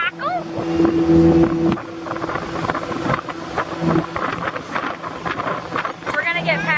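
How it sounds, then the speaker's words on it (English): A faster motorboat overtakes on the open ocean for a 4th of July outing, a steady engine drone swelling near and loud amid gusting wind noise and water rush, with people talking over it. "We're gonna get passed by this boat. They're a little faster than us."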